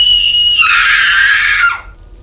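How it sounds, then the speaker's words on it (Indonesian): A shrill scream rings out in a horror story, a sustained high cry with a harsh, strained edge that holds for over a second before cutting off abruptly, heard alone and close. "gue denger ada suara teriakan dari kamar Bowo, dan itu suaranya Boni."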